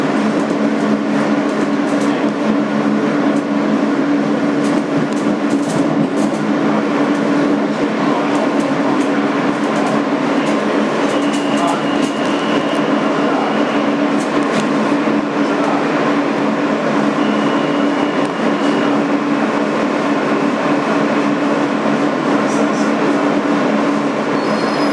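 A 2008 Kawasaki R160B N local subway train runs steadily on the BMT Sea Beach Line, a continuous loud rumble of wheels and motors with faint squeals, close and unbroken throughout.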